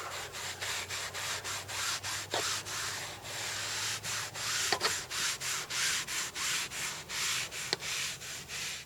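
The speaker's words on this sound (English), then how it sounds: "just run that baby powder all along the gasket" A sock loaded with baby powder is rubbed along an RV slide-out rubber gasket in steady, rhythmic back-and-forth strokes, a close, dry brushing swish repeating roughly every third of a second.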